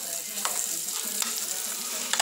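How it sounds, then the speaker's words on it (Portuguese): Bananas frying in butter in a pan, a steady close sizzle with a few sharp scraping stirs as the pieces are turned. "Pronto, aí agora vamos mexer um pouquinho, virando de um lado para outro"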